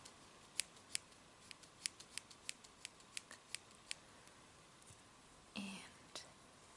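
Scissors snip near the microphone during a pretend ASMR haircut: about a dozen crisp, evenly spaced cuts, then a brief soft rustle, with quiet whispering underneath.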